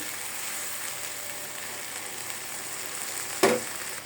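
Banana stem fries in a pan with dried fish, giving an even, continuous sizzling hiss close by, broken once near the end by a single short clink.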